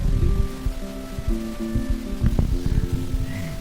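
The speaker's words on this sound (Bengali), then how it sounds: "একদম জোরে বৃষ্টি পড়ছে" Heavy rain patters and drums at close range in Sarahan valley near Shimla, with a steady hiss beneath, uneven droplet hits, and a faint tonal hum running through it.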